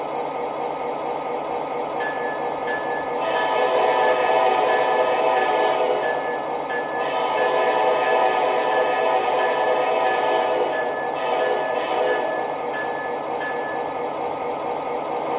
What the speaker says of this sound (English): both of them have that beautiful EMD purr and their idle sequence right now